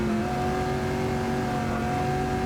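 Gran Turismo 7 race car at Bathurst holding a loud, steady engine drone with a sustained whine and slight pitch drift, close and unbroken for the whole stretch.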